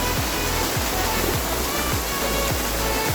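Roaring waterfall at Bruti, a steady loud broadband rush of falling water close by, with low rhythmic thuds recurring about every half second beneath it, no voices.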